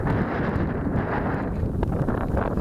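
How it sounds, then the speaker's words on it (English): Strong wind gusts outdoors and buffets the microphone with a low, rumbling roar that stays steady through the short moment. "It's harder to do it in the wind, guys."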